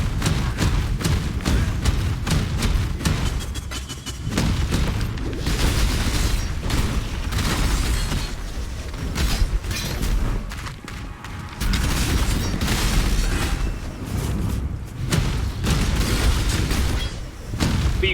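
Repeated booming explosions and thuds from the video game Path of Exile go off in quick succession, loud and dense, with brief lulls between bursts.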